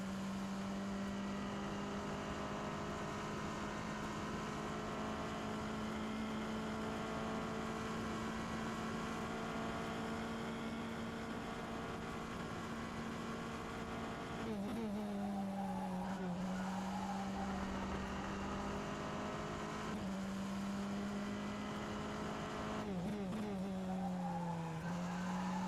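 An F3 Tatuus FT-60 open-wheel race car in rFactor 2 at Road America, its engine holding a steady high drone, with gear changes and tyre squeal near the middle and end.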